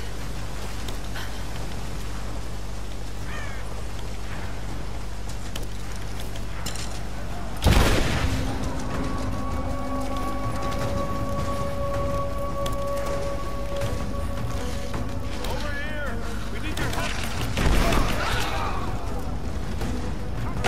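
Bursts of gunfire during a battle in Rise of the Tomb Raider, with two loud impacts standing out against a constant rain-like wash of shots and ambience.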